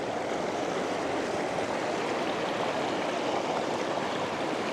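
A mountain river in Ladakh rushes beside a washed-out trail, a steady, dense roar of flowing water heard up close with no pauses.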